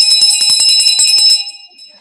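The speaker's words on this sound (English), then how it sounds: "At the sound of the bell." A bell rings repeatedly at a tech meetup to open a design thinking panel, a bright series of quick metallic strikes with ringing overtones for over a second, then fading out.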